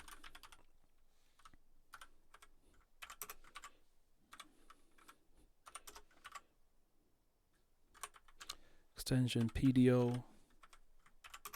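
Someone types on a computer keyboard in short clattering runs with pauses between them, close and light, and someone speaks briefly near the end.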